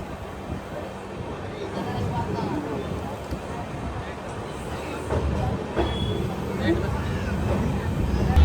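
A special passenger train running on rails in India, heard as a steady rolling rumble with faint rhythmic wheel clatter that grows louder toward the end, while someone talks over it.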